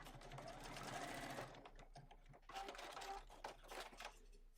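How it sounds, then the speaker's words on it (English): Sewing machine stitching an elasticated pocket on a bag, two bursts of rapid, buzzing mechanical chatter close by, separated by a short pause. "I can stitch across this side too to totally stitch it in place"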